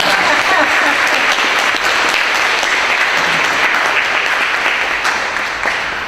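An audience claps steadily at welcoming remarks, a loud, dense wash of applause that holds for about six seconds before easing slightly at the end.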